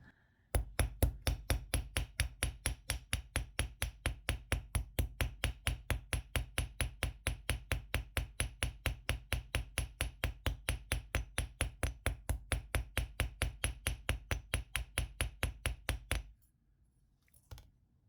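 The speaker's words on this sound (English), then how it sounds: "I'm hammering the top a little flatter" Rapid, even hammer taps on copper wire ring out in a long unbroken series of sharp metallic strikes, close and steady, then stop abruptly, flattening the top of a wire heart.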